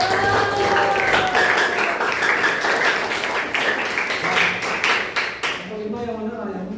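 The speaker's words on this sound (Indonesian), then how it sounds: "Tepuk tangan dulu." A classroom of students applauds as a group is called up to present, a dense, steady patter of many hands lasting several seconds with voices mixed in, fading toward the end as a presenter begins talking.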